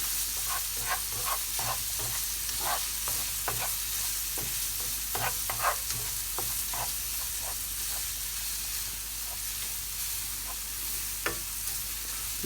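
Garlic frying in a pan with steady sizzling and hiss, broken by repeated clinks and scrapes of a utensil stirring it, close and continuous throughout.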